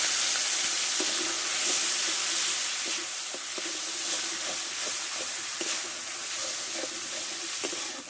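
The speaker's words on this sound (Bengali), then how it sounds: "আমি একটু জল দেবো যে মশলাটা ভালোভাবে কষে নেবো" Spice masala with a splash of water cooks in a pan for aloo potol kalia, giving a continuous soft sizzling hiss with light stirring taps, close and steady, with no talk.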